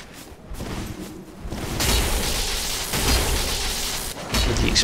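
Explosion in Dark Souls III: The Ringed City, a loud burst that swells into a sustained roaring blast with a second surge, then cuts off abruptly.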